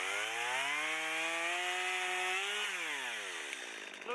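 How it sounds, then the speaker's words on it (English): Chainsaw engine running loud and close while cutting a log held in a log holder, its steady pitch rising slowly, then dropping as the cut bogs down near the end. "almost with the chainsaw."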